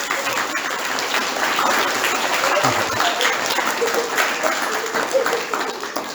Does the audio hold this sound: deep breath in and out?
no